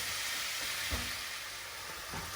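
Chicken browning in a pan for chicken balti, a loud, dense, continuous sizzle heard up close with a couple of brief stirring thumps, no speech.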